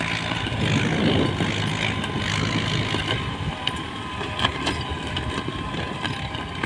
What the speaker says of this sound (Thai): เสียงตัดรากยางนะคะ